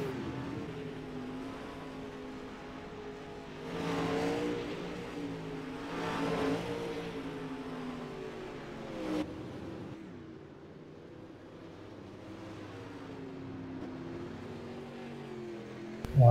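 Pro Late Model race cars run hot laps on a dirt track, engines droning and revving steadily with a louder surge as cars pass, continuous roar throughout with no talk.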